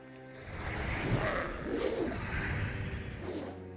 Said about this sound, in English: I'm hearing rain. I'm hearing heavy rain.